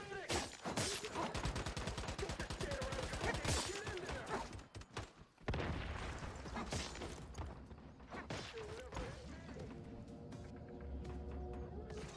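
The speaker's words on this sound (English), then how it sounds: "Who's shooting?" Gunfire in The Secret World, an open-world Cthulhu survival MMO: dense rapid shots rattle in long bursts, pause briefly, then resume amid mechanical clatter and game noise, moderately close and without talk.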